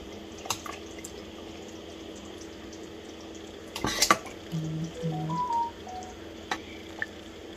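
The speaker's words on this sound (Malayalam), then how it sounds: "നമുക്ക് ഇച്ചിരി കറിയും കൂടെ ഇതിലേക്ക് ഒഴിക്കാം." Thick duck curry is poured onto a plate, giving a brief wet slop and a light clink midway through. The sound is quiet and close, over low kitchen background, with no talking.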